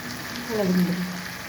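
Eggs and potatoes for an egg and potato bhuna being fried and stirred in a pan: a steady, close sizzle with a short gliding voice sound rising above it midway.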